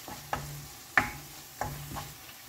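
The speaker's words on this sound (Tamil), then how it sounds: "இந்த எண்ணெயிலே இந்த மிளகாத்தூள்லாம் கொஞ்சம் வதக்கிக்கிட்டிங்கன்னா நல்லாயிருக்கும்" Chili powder being stir-fried in oil for mutton peratel: a soft, low sizzle punctuated by four or five sharp spoon scrapes against the pan at a slow, uneven rhythm.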